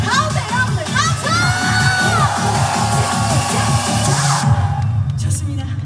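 A festival crowd at an outdoor celebration concert roars with sustained shouting and cheering, loud and dense throughout, with high whoops and children's shrieks rising above the mass of voices.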